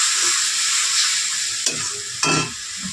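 Spice masala for chicken curry, with Kashmiri chilli and whole black pepper, stir-fried in a pan: a steady close sizzle with two sharp spatula scrapes partway through, no voices.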